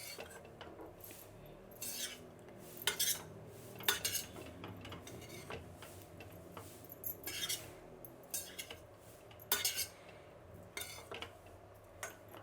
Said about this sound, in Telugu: అన్నము పొడి బాగా కలిసేట్లు కలపాలండి.